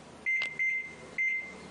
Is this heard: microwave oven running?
yes